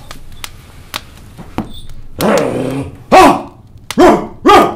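A guard dog barks and growls in a series of loud, close bursts, with a low growl building before several sharp barks toward the end.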